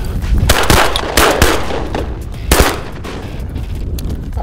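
Rapid shotgun blasts at ducks during a late-season hunt, several loud, close shots fired in quick succession, each with a sharp crack and booming tail, the volleys overlapping almost like a fusillade.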